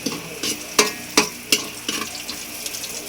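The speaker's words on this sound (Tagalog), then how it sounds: "Pero ngayon magluluto ako ng adobo." Adobo cooking in a pan stirred with a golden ladle: a run of sharp scraping, clattering strokes over a steady frying sizzle, with no voices.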